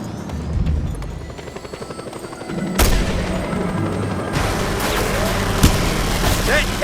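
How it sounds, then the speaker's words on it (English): Helicopter rotor chop drones steadily through a Just Cause 2 combat scene, joined by sharp booms and bursts of gunfire around the middle and a dense, loud battle wash near the end. "That helicopter will tear us to pieces!"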